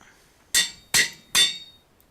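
A hammer tool in a modded Minecraft game strikes three times in quick succession, each a sharp, bright, metallic clink with a ringing tail, close and loud against near silence.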